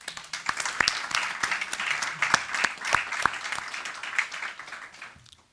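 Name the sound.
round of applause for classified employees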